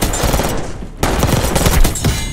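Sustained machine-gun fire in a video game shootout, loud and dense with rapid overlapping shots, a brief dip near one second before the heavy fire resumes.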